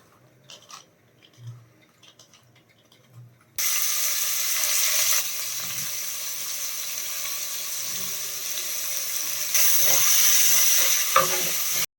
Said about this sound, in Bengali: এর মধ্যে এবার ভাজবো হলো বিনস গাজরটা